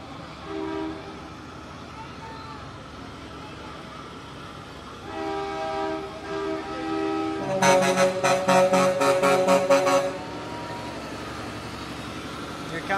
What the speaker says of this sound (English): that semi down there is loud